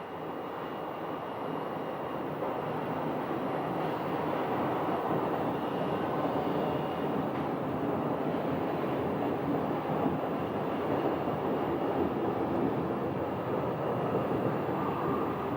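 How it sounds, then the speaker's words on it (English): A landing airliner at Phoenix Sky Harbor rolling down the runway after touchdown, a steady broad roar of engines and rolling noise heard from a distance, constant and unbroken without voices. "Floating down the runway, floating, and finally touching down."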